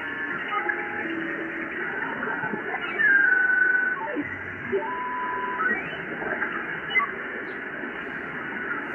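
Static hiss from a Malachite DSP radio receiver tuned across an amateur band, a steady noisy wash with faint warbling tones and short squeaks drifting through, and no voices.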